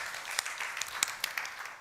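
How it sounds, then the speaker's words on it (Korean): Brief scattered clapping from a church congregation, a few sharp claps standing out over a soft patter. "하나님께 영광의 박수를 드리겠습니다."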